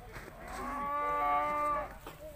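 A single cow lowing at the Urzhar livestock market, a drawn-out moo of about a second rising over faint market background noise.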